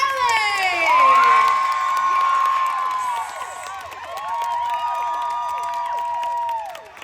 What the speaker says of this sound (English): Okay, now huge claps, huge roars.